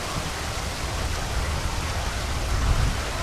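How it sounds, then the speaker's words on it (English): Steady rain falls in a park in Araku Valley, a dense even hiss of drops on surfaces with a slight swell near the end. "It's raining"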